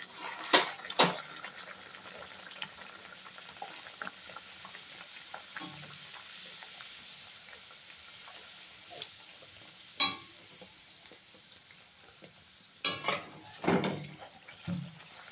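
Radha ballavi, urad dal stuffed puris, fry in hot oil in a kadai over medium gas, giving a faint steady sizzle with a few sharper bursts of bubbling and spatter as dough is slipped in and stirred.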